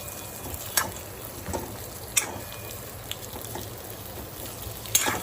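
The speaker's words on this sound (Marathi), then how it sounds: "आता एक दोन मिनटं मी हे असंच तेलामध्ये परतून घेत आहे" Ridge gourd sautés in oil in a kadhai with leftover masala, a soft continuous fry with a few light clicks and taps of a spoon against the pan, close and unaccompanied by talk.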